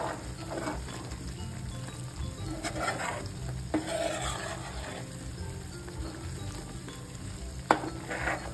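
An amla mixture cooks in oil for homemade hair oil, stirred continuously: a low steady sizzle with scraping strokes and an occasional sharp clink of spoon on pan.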